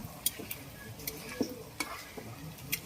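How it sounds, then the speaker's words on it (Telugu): Ingredients for fish pickle fry in a pan, a faint soft sizzle under a series of quick, light clinks and taps of a spoon stirring, quiet and close. "అలాగా కొంచెం సేపు వేయించాలండి"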